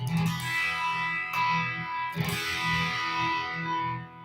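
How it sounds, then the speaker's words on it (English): A custom Z Guitars Flying V electric guitar played through its humbucker pickup rings out distorted chords with heavy effects, a few strums sustaining and overlapping in a thick, continuous wash. "So hear that? Hear the humbucker?"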